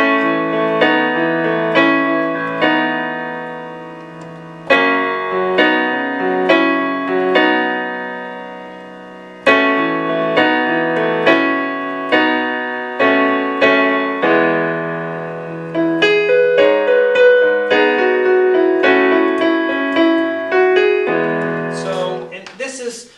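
Solo piano plays the intro of a song, chords and melody notes struck in steady phrases with short pauses, ending with a brief rattle at the very end.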